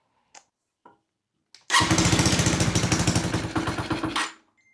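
A 125cc race motorcycle engine starts up and runs loudly nearby for about two and a half seconds, with a fast, even, throbbing pulse, then cuts off abruptly; a few faint clicks come just before it fires.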